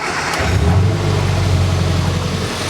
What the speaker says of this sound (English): So I'm going to start the engine, and I'm going to crank it up to X amount of RPMs,